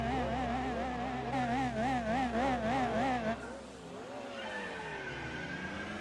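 TVR race car in Gran Turismo 4, engine note wavering and revving under tire squeal, then dropping off as another engine tone sweeps down and settles.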